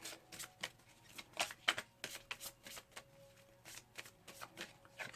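Oracle cards from the Miracles Now deck shuffled by hand, a close series of soft riffling bursts and flicks in an uneven rhythm over a faint steady hum.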